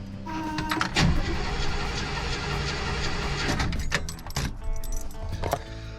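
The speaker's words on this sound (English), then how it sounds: "She no start, kind of needs fuel to run." A 1968 Chevrolet Impala with a new fuel pump cranks repeatedly and does not catch, the starter churning steadily for several seconds, then a few short bursts and clicks near the end, close and fairly loud.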